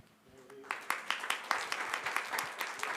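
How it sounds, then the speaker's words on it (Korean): Church congregation clapping: a quiet start with faint voices, then a series of distinct, fairly sparse hand claps building into modest applause in an indoor sanctuary. "큰 박수로 다시 한번 큰 박수로 한번 축복해 주시면 좋겠습니다"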